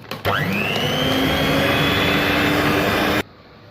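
An electric beater whirs loudly and steadily while beating sugar for muffin batter, spinning up sharply at the start, holding a constant high whine for about three seconds, then cutting off abruptly.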